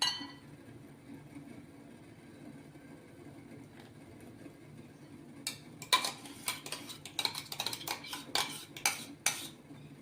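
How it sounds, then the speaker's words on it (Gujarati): A spoon stirs custard into cut fruit in a bowl, with a quiet hum at first and then a rapid run of bright clinks and scrapes as metal knocks against the bowl. "તો હવે આપણે આને ફ્રૂટમાં મિક્સ કરી દઈશું."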